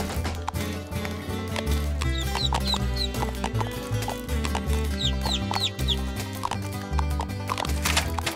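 Cartoon chickens clucking in Toy Story Mania over bouncy background music, with repeated squawks and a clip-clop beat running through the game sound.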